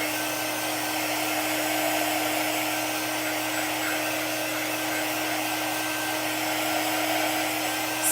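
Handheld heat tool drying a chalk transfer card for a vintage snowman craft project, giving a steady, close, loud blowing whir that runs unbroken throughout with no talking.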